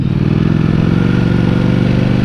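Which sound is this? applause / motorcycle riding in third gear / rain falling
motorcycle riding in third gear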